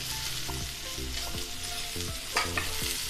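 Onion, garlic, green chili, ginger pieces and tomato sauté in a pan for a spicy Nashik-style misal, a steady sizzle broken by several rhythmic spoon-scraping stirs close by.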